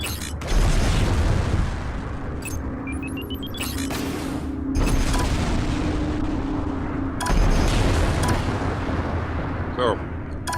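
Cannon and missile fire from fighter craft in the space game Strike Suite Zero: dense roaring blasts and booms stacked on a steady engine hum, with sharp bursts near five and seven seconds, loud and continuous, with a voice talking over them.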